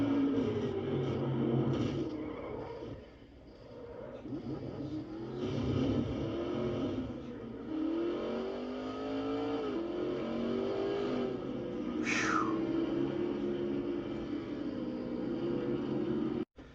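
Stock race car heard from an in-car camera during an oval race, its engine droning loud and steady with rising and falling revs through gear changes, plus a brief high whine near the end.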